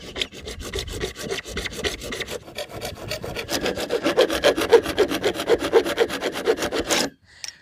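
Hand saw cutting through PVC pipe for a fish trap, a steady run of rhythmic rasping strokes that speeds up and grows louder toward the end before stopping abruptly, close and alone.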